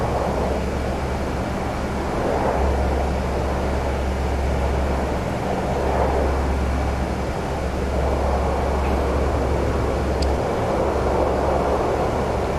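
C-130 Hercules transport aircraft flying in DCS World, a steady loud low engine drone that holds throughout with a broad rushing hiss over it, no voices.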